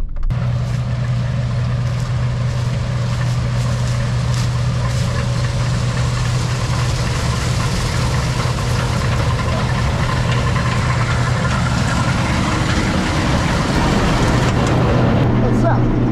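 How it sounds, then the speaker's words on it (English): A Cummins diesel engine in a K7088 farm machine idles steadily with a low, constant drone and a faint knocking texture, loud and close, running unbroken throughout. "that Cummins engine in that K7088 just rolls coal all day long."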